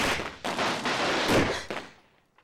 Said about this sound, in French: Voilà, des pétards.